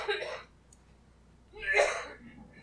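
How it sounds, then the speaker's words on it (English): Two short, harsh coughs a second or so apart, somewhat distant, with quiet room noise between them. "I hear coughing in the background"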